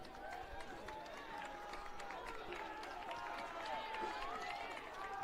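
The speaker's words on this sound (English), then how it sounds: "everybody's clapping." A high school football crowd at a Marion Harding vs. Galion game claps steadily from the stands after a face mask call, a dense continuous patter with a commentator talking over it.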